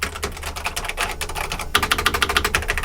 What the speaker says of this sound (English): it's got a very nice mechanical keyboard